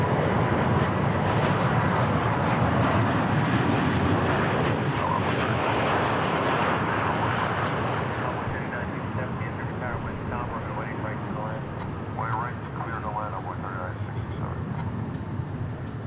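An airliner departs Dallas Fort Worth International Airport with a broad, rushing jet roar that is loud at first and slowly fades, while a person talks over it.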